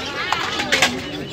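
A pigeon gives soft, low coos at an outdoor pigeon and pet market, with brief calls under people talking nearby in a busy, noisy setting.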